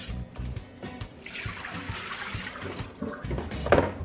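Water trickles and splashes steadily with intermittent sloshing as sea moss is rinsed by hand, close by and moderately loud.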